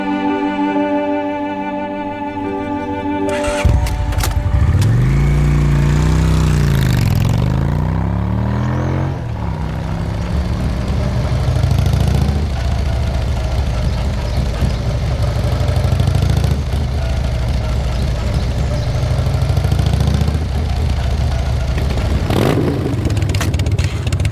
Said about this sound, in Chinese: 你的摩托车修好了。